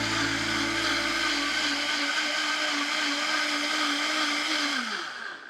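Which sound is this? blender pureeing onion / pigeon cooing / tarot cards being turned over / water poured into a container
blender pureeing onion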